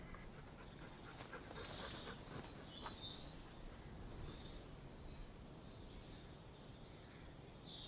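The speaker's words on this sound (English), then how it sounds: "Would you believe it if I told you I sat down here without any dogs and they've descended upon me?" Several dogs pant steadily in a winter garden, soft rhythmic breathing close by, with faint birdsong chirping in the background and no talking.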